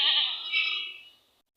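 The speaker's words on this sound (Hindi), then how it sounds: "ये वाली फ़ीमेल बकरी दिखा रहा हूँ" A female goat with a week-old kid bleats once, a loud, close, wavering cry lasting just over a second before trailing off, with no talk over it.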